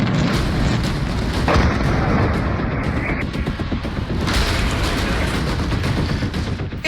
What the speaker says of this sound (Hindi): इजराइल ने ईरान के हमले का जवाब देने के लिए वहां के 7 शहरों पर बमबारी की है